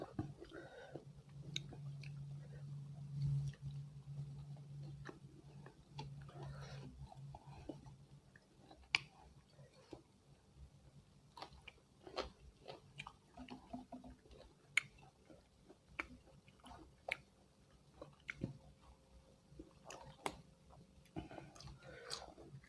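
Close, quiet chewing and crunching of crispy sweet liver, with irregular bites and soft mouth sounds spread over a long stretch and faint murmuring in the background.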